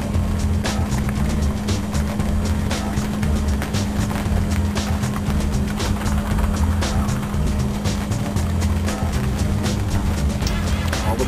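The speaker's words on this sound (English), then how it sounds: "And it's raining." Steady rain falls at Shasta Lake, a dense, continuous patter of drops close by that holds at an even level throughout with no talking.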